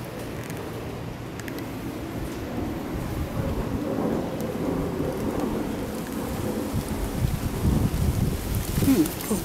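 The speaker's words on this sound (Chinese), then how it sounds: "大雨了" Heavy rain pours down steadily outdoors while thunder rumbles low and builds toward the end, growing louder and more turbulent over several seconds.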